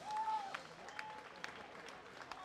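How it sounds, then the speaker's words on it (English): Applause from a boxing crowd for both fighters after a bout, fairly faint and distant, with scattered claps and a brief whistle at the start. "ladies and gentlemen, a big round of applause for both men"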